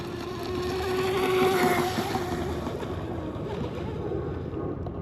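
A small USA-made RC hydroplane boat fitted with a new turn fin runs out on the water, its motor giving a steady, fairly loud whine with some wash and wind behind it for the whole stretch, no voices.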